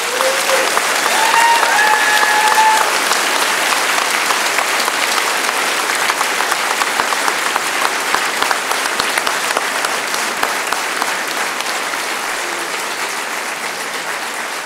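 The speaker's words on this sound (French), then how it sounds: "nous joindre à moi pour dire à nos nouveaux diplômés 2012 toute notre fierté en les applaudissant chaleureusement" An audience at a 2012 graduation ceremony gives the new graduates a long, loud round of applause, a dense steady clapping that tapers off slightly near the end.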